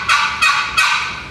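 A hand-operated turkey call produces three sharp, raspy yelps imitating a wild turkey, close and loud, spaced evenly in a quick rhythmic cadence.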